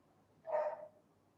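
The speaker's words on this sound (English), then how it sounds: "My apologies if you can hear a dog in the background" A single short dog bark in the background, fairly faint and muffled, with quiet room tone before and after.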